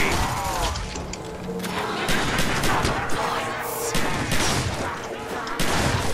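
FN FAL fire in a Nazi Zombies video game crackles in dense, rapid bursts of loud shots mixed with mechanical clatter, running almost continuously throughout.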